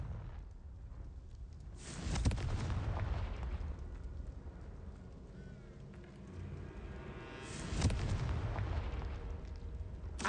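The Confringo blasting spell fires in the Hogwarts Legacy video game, giving two loud, explosive bursts several seconds apart, each decaying into a rumbling tail over quiet ambience.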